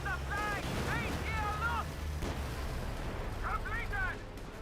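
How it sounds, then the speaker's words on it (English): A grenade hitting a Puma armored car in Company of Heroes 2 goes off as a short, sharp boom amid distant battle rumble, while a voice talks over the game sound. "Anti-gravity grenade connects on the Puma"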